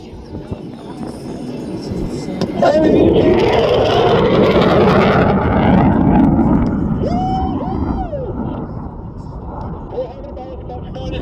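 An EA-18G Growler jet sweeps past left to right at an airshow, a broad roaring rush that builds, holds loud for several seconds and then fades, while radio chatter from the cockpit is heard briefly under it.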